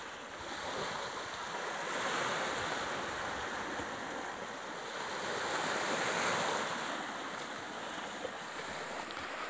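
Sea waves washing onto a beach: a steady hiss of surf that swells and eases in slow surges, fairly soft and mixed with some wind noise.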